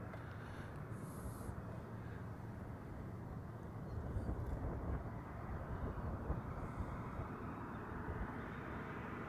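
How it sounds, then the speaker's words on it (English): An Airbus A380 of the Flying Honu livery passing during planespotting in Hawaii, a steady broad low roar of jet engines that swells slightly midway and holds without talk. "I could just see the A380"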